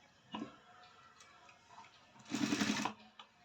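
A sewing machine stitching a blouse seam, heard as faint ticks and light clicks followed by one short, louder run of stitching in a quiet room.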